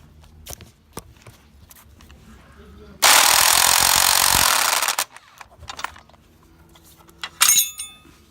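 A rattle gun (impact wrench) works on suspension bolts during a front suspension rebuild on a Lexus V8-swapped RX8, giving one loud, close two-second burst among scattered clinks of tools and a later short whir.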